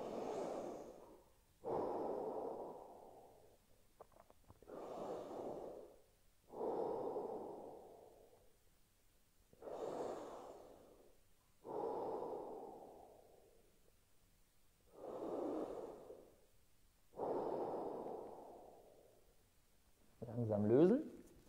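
Deep, slow breaths during a shoulder stretching exercise on the floor, about eight long exhalations in a steady rhythm, close and fairly quiet, with a brief sharper sound at the end.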